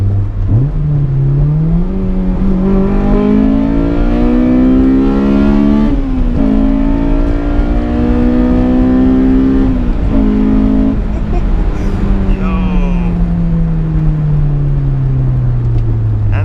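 A Honda S2000 engine revs hard and close into VTEC, its pitch climbing through several pulls toward 9000 RPM with brief shifts between them, then winding down as the car eases off.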